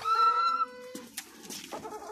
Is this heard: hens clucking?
yes